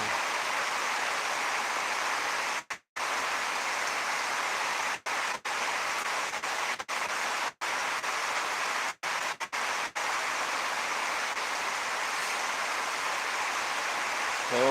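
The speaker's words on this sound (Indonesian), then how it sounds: "Hujan gerimis aja." Light drizzling rain at home, a steady hiss of fine drops that holds throughout, broken only by a few brief dropouts.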